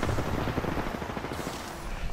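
Continuous dense gunfire in the Apex Legends battle royale shooter, rapid automatic shots blending into a steady, fairly quiet wash with no pauses.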